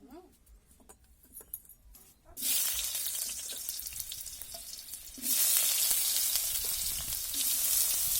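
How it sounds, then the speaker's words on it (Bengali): Potatoes sizzle in hot oil in a wok, a loud, steady frying hiss that starts quietly, then surges after a couple of seconds and grows louder again midway. Faint stirring and clinks sound underneath. "দিয়ে এরপর আলুটা ভালো করে ভেজে নেবো"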